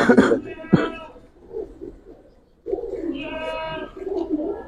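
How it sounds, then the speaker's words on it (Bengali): Old-breed black-necked pigeons coo up close in a loft, with deep rolling calls that come in two bursts separated by a short pause; a few rough throat-like noises are heard near the start. "পুরান জাতের কালো গলা কবুতর ভাই,"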